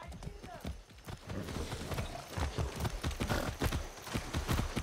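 Horse hooves clip-clop at a quick, rhythmic trot in the Far Cry 6 video game, a steady run of close hoof strikes with a faint whinny and some muffled game voices beneath.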